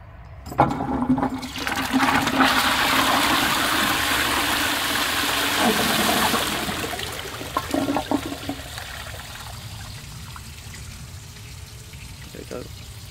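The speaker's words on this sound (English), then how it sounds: "I'm gonna flush this twice with both flush pipes" An old bell syphon cistern toilet flushed with a long pull on its original flush pipe: a loud rushing gush of water lasting several seconds, then settling into a quieter refill trickle with a few knocks.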